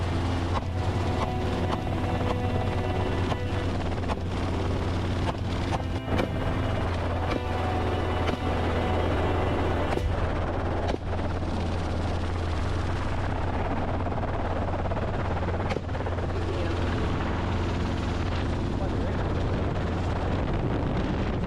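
Helicopter circling over tall grass while hunting a wild boar herd, a steady loud rotor and engine drone with a deep low pulse that fills the whole stretch without pause.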